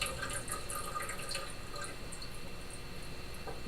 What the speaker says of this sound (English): And we're going to let it drip.